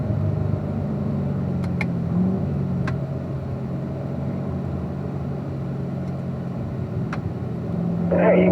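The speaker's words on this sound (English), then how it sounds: "There you go, accelerating down the straightaway" A race car accelerates down the straightaway, its engine a steady droning tone throughout with a few sharp clicks, then rising louder at the end.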